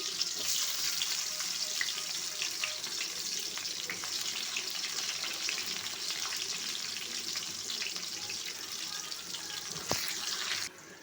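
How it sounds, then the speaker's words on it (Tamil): Small onions frying in oil with mustard and cumin seeds for a dried-fish curry, a steady dense sizzle and crackle throughout with occasional spoon scrapes, close and continuous until it cuts off near the end. "இப்போ வெங்காயத்தை போட்டுக்கிட்டால் நல்லா கிண்டி விட்டுக்கிடுவோம்"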